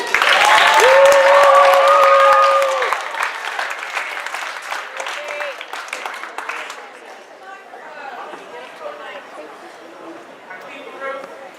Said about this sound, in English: Please welcome again, with a warm round of applause